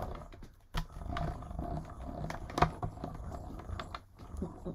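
A crafting die-cutting machine cranking a plate sandwich through, a rough grinding mechanical rumble with clicks and knocks, fairly close and steady over several seconds.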